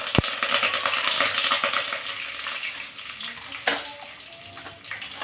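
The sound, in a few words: curry leaves and mustard seeds spluttering in hot oil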